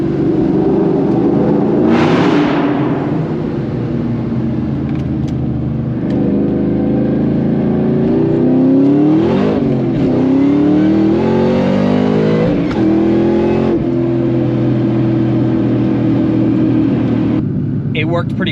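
A 2003 Cobra making over 800 horsepower revs its aftermarket exhaust, a loud, deep engine note rising and falling through several throttle blips, with a voice talking over it.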